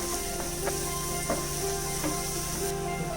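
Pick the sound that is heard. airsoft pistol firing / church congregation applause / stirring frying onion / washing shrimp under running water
stirring frying onion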